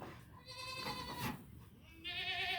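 Goats bleating in a farm pen beside a barn, several wavering, nasal cries close by, one after another, with quiet outdoor background between calls.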